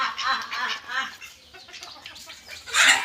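Village chickens, ducks and goats gather, with clucking and squawking fowl close by in quick bursts amid a busy rural yard.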